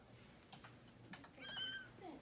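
A cat gives a short meow, faint and slightly distant, with soft clicking in the background.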